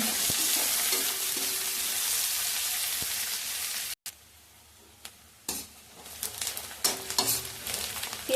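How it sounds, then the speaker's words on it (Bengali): Chopped onions fry in a pan after a spice tempering for an egg and soya chunk curry, a loud steady sizzle with stirring scrapes that briefly cuts out, then returns in quieter bursts and crackles. "পেঁয়াজটা একটু ভেজে নেব"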